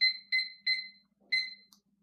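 A very loud kitchen timer alarm in an apartment, sharp piercing electronic beeps in a quick rhythm, four bursts with a brief pause before the last, close and alone.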